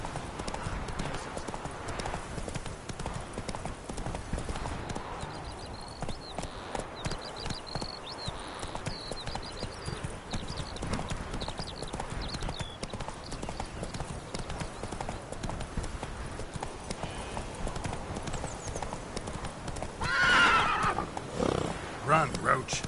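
Roach, a horse in The Witcher 3 video game, gallops with rapid clip-clop hoofbeats and neighs, all under near-constant talk and background game sound, with a louder burst near the end.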